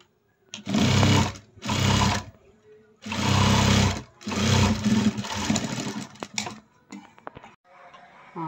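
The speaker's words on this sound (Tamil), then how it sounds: "மேலே ஒரு படிமான தையல் போட்டுக்கலாம்." A home sewing machine stitches a blouse seam in several loud, close bursts of steady whirring, with brief pauses between runs and softer handling noises toward the end.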